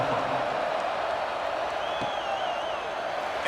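Stadium crowd in a college football video game, Clemson versus Michigan, roaring steadily after a scoring drive; a dense, continuous wash of cheering holds at even loudness throughout, with a faint whistle-like tone drifting through midway.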